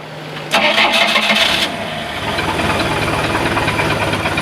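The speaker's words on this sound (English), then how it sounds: "Well, it wanted to start. Let's try it again here." A carbureted boat engine cranks hard for about a second and then settles into a rough, rhythmic chugging as it tries to catch. The sound is loud and close, with no talking.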